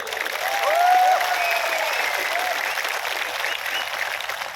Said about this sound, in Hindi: ताली दो